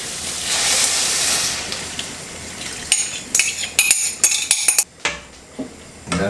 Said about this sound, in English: I'm gonna scrape all the flavors from the bottom of the pan